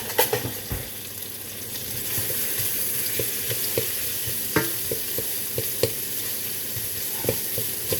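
Onions fry in a pan for moules marinières, a soft continuous sizzle broken by scattered scraping taps as a utensil stirs them, close and moderately quiet with no talking.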